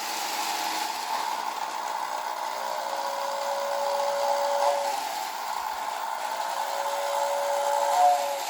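A thin, steady steam whistle from a Lionel 2020 steam turbine 6-8-6 toy locomotive tender sounds in long held tones over a continuous transformer motor hum, with a brief pause between blasts; the transformer's whistle switch may be failing.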